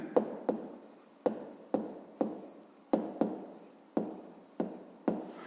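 Pen writing on paper while working a 5th-grade maths exercise, a series of close scratchy strokes with sharp starts and trailing scrapes, repeating every half second or so, alone with no talk.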